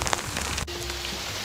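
Rain falling outdoors in a yard, a steady close hiss of drops on surfaces with a brief sharp knock partway through and no voices.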